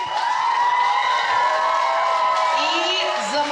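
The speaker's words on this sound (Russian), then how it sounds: "Встречаем аплодисментами." Audience applause and cheering greet a young balalaika performer at a children's camp concert, a dense, steady roar of clapping and shouts mixed with excited voices filling the hall throughout.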